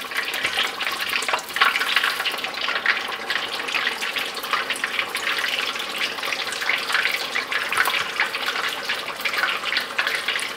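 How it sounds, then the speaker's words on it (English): Beer-battered fish frying in a pot of hot oil, giving a steady, close, bubbling sizzle that continues unbroken with no talk. "It doesn't take a long time to fry. You can see it floating, turning around."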